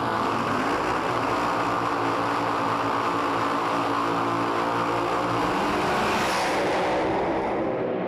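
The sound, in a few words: drag race car engine revving hard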